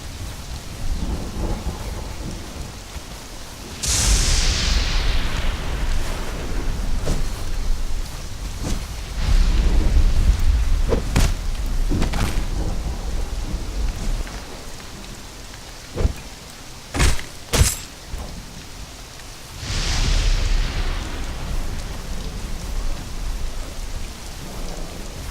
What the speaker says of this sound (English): I don't know why, but it's always raining